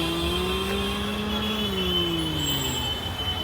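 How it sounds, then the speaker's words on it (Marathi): Busy Mumbai street traffic, a steady close roar of engines with a rising and falling drone of a passing vehicle, continuous and loud with no talking. "ट्रॅफिक बघा गाईस, ट्रॅफिक"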